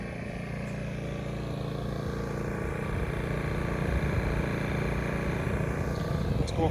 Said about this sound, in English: We can hear almost no change in the generator.